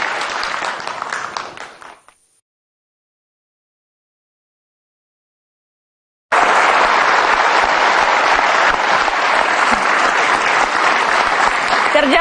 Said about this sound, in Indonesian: Kita kasih tepuk tangan Bang Zul